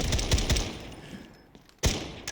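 Gunfire from a tactical weapon point-shot in the video game Delta Force on PS5, a burst of close, loud shots at the start, then a lull and one more sharp shot near the end.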